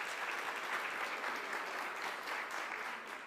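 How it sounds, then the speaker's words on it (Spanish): An audience applauds a panelist at a journalism discussion, a dense, steady wash of clapping from many hands that holds at an even level throughout before easing slightly at the end. "vamos a dar un aplauso a nuestro panelista"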